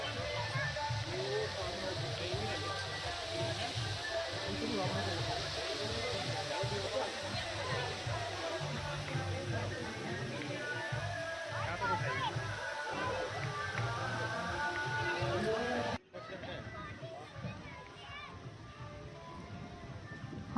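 Waterfall at a resort in Mussoorie, a steady broad rush of falling water beneath a voice and background music, cutting off abruptly near the end to quieter surroundings.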